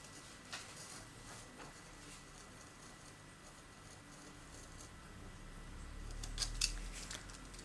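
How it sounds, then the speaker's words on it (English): Scissors cutting around the inside of a handmade birthday card, quiet papery snips against a soft background, with a slightly louder crisp cut near the end. "Just going to cut around the inside"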